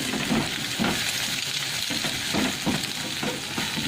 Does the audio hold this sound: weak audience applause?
no